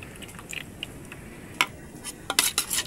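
A spoon scrapes and clinks against a pan while a fish dish with calamansi juice is stirred, making scattered metallic taps that grow louder and busier toward the end, without talk.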